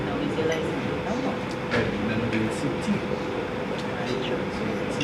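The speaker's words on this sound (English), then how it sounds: "Also, it's just the train." A train passes nearby as a steady, continuous rumble with faint clatter, running under people talking at an outdoor ceremony.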